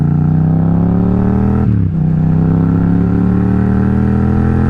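A motorcycle engine revs steadily and loud and close while riding, its rich harmonic drone easing briefly with a small pop before settling back into a constant roar, with no talking.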